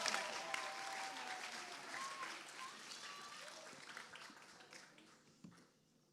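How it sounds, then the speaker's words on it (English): An audience at a conference opening ceremony applauds, a dense wash of clapping that starts loud and gradually fades over several seconds, with a few voices and a cheer scattered through it. "Please give a huge round of applause for our next HS dance piece"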